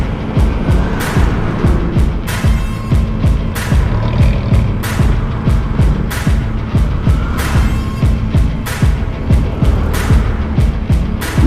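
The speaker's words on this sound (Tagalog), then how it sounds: "Traffic na dito sa Naga." Dense road traffic in Naga City, Bicol: a continuous loud rumble of engines with repeated vehicles swishing past close by, one after another, steady throughout.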